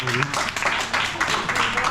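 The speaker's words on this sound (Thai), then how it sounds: "ปรบมือให้ทั้งสองคนครับ" A school audience at an education guidance event in Uttaradit, Thailand, breaks into brief, scattered applause, with voices mixed in.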